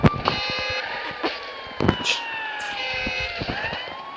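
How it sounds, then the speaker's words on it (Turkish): Emergency vehicle sirens switched on in traffic: steady wailing tones sweep up and down through the whole stretch, with sharp knocks and bumps over them and a voice talking briefly in between. "Şimdi sirenleri yakalım."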